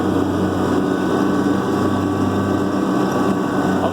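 A Kubota B2650 tractor engine drives the PTO shaft for a belly mower, a steady loud droning hum with a constant whine and no change in pitch throughout.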